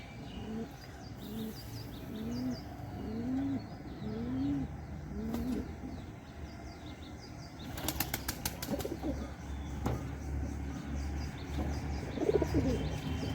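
Loft pigeons, some ill with a head-twisting disease, give a run of rhythmic cooing calls, followed by a burst of wing flapping and scattered softer coos against a low background hum.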